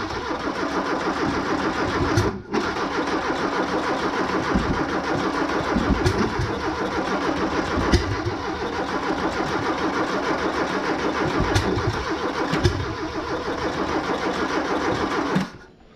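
A barn-find VW Golf MK3 engine cranks continuously with a fast, rhythmic churning, pausing briefly a few times, loud and close, without catching, and cutting off at the end.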